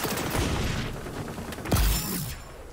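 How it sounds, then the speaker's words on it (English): A frag grenade detonates in the shooter game XDefiant, a single heavy boom with low rumble about two-thirds through, set against busy, noisy battle ambience. "Wow, I actually got somebody with a grenade."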